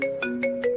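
A telephone rings with an electronic tone and goes unanswered, three bright, even bursts in close succession, loud and near with no voices over it.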